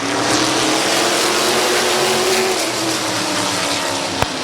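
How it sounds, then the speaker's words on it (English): Race cars on the Midvale Speedway oval track during an Ohio Gold Cup Championship night, a loud steady engine roar from several cars with a droning tone that shifts slightly in pitch, plus one sharp click near the end. "The Ohio Gold Cup Championship, week number 5, and we're racing at Midvale Speedway."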